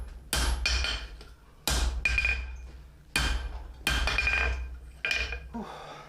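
Hammer blows ring on the horn of a steel anvil while forging bent knee tongs from sucker rod scrap, five sharp metallic strikes at uneven intervals, each followed by a bright decaying ring.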